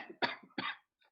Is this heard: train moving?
no